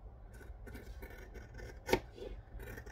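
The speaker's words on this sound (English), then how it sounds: "It's also easier to cut if you lean your scissors on the mat." Scissors cut thin flexible vinyl while resting against a cutting mat, giving a faint, soft rasping glide that ends in one sharper, louder snip partway through, with no talking.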